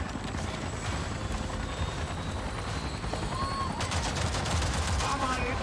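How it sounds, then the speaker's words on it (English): Shotgun fire in the PS5 video game Avatar: Frontiers of Pandora, heard as several bursts of shots late in the clip over a steady bed of game ambience and engine-like rumble. "Back to shotgun."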